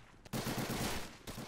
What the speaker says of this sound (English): Ooh, but that machine gun is still spinning.